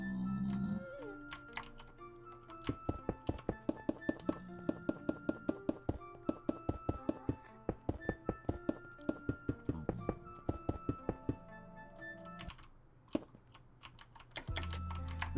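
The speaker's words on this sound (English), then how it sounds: "There's nothing wrong with hearing a mechanical keyboard at all." Rapid, uneven keystrokes on a mechanical computer keyboard clack close by for about fifteen seconds. Sharp clicks come in quick bursts with brief pauses, alone over a faint background hum.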